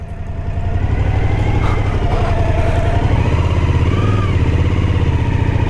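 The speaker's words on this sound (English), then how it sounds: "Oh, got a bit of wheel spin." Motorcycle engine revving loud and close on a rough road as the rear wheel spins, a sustained throaty drone rising and holding without pause.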